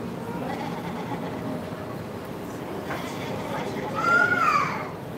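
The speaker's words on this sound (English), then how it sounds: "Want to see the baby sheep over here?" A single short, high bleat from a baby sheep rises out of steady outdoor noise and distant chatter, fairly near and brief.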